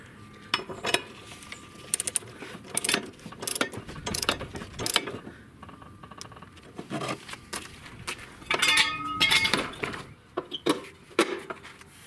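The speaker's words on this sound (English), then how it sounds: "Now I reinstall the blade." Blade being bolted back onto a Sears Craftsman lawn mower, with a ratchet wrench clicking in quick bursts and metal tools clinking and knocking close by, uneven and intermittent.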